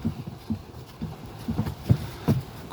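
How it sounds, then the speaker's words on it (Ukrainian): Heavy draft mare, five years old, walking calmly with her hooves clip-clopping in a steady, evenly spaced rhythm, soft and fairly close, with no voices over it. "Кобила йде файно, без батуга, нічого до неї не треба"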